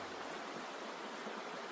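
A waterfall stream rushes in a steady, close wash of broadband water noise, even and unbroken for the short moment.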